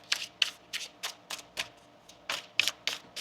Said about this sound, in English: 1 more shuffle here